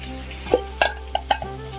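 Onion softening in a hot pan gives a faint low sizzle, broken by a few sharp clinks and scrapes of a spoon against the metal, short and close.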